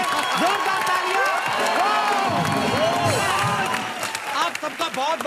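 A studio audience at a comedy show claps and cheers loudly, with whoops and shouted voices over a thick crowd roar that thins near the end.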